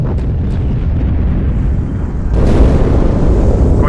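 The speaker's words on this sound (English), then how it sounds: "That explosion came from inside the Athens" A big explosion in a Halo game, a heavy booming blast that rumbles on with low roaring debris, then swells into a louder second burst, with no voices over it.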